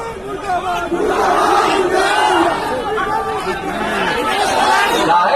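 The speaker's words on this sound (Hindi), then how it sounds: "लोगों ने नीतीश कुमार मुर्दाबाद, लालू यादव जिंदाबाद, तेजस्वी यादव जिंदाबाद के नारे लगाए" A loud, dense crowd chants political slogans against Nitish Kumar in unison, rising and falling continuously throughout with a rowdy babble of voices beneath, as at a Bihar election-season gathering.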